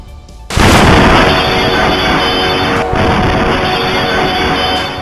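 A sudden, very loud explosion bursts in at night in Srinagar, Jammu and Kashmir, then rolls on as a sustained, roaring rumble.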